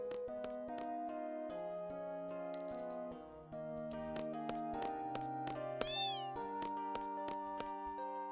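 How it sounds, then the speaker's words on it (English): Several cats meow repeatedly over steady game music at the inn in Final Fantasy VIII, short mewing calls standing out clearly above the melody. "Wow, cats."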